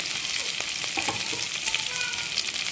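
Onions sizzling steadily in a pan for tomato chicken curry, a loud continuous hiss of frying oil with a few faint scrapes of stirring, no voices.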